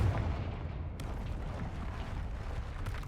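A fire spell blast in the Hogwarts Legacy video game makes a loud, rumbling boom that rolls on as a dense, continuous roar.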